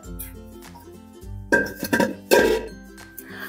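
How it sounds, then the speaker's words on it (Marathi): A lid set onto a cooking pot while making spicy gravy balls in a home kitchen gives two sharp metallic clinks and rattles over steady background music. "आता आपण झाकण ठेवूया"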